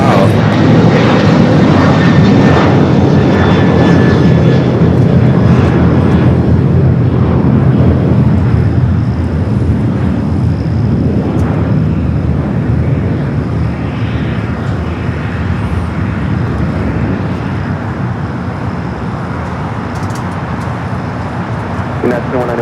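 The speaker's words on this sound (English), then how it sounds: "got that UPS up and next for arrival here on the south" A UPS cargo airplane arriving at LAX in Los Angeles, its steady loud engine roar filling the whole clip over distant traffic, with faint voices in the background.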